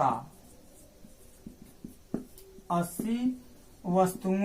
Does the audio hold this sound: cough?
no